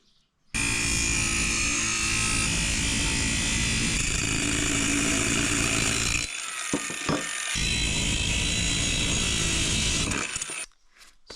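Power tool cutting through a 90-degree steel elbow for a turbo manifold, a loud continuous grinding whine that holds steady for several seconds, briefly pauses, then resumes before stopping abruptly.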